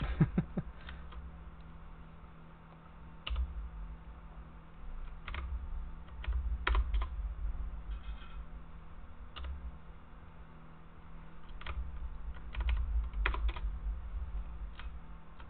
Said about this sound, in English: My keyboard will sing the song of its people to you.